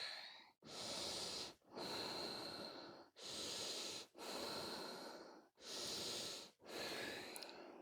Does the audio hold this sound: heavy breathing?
yes